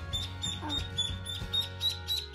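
Young ducklings peep and quack softly in short, repeated calls close by, set against a steady low hum, while they are being handled and held.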